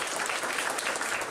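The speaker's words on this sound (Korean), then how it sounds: "따뜻한 박수 환영해 주시기 바랍니다" Warm applause from a workshop audience at a disability sports policy event, welcoming introduced guests; a dense, even patter of clapping, fairly soft and continuous, with no talking.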